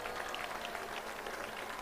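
A church crowd at a healing service gives a steady burst of clapping, dense and even throughout the short span.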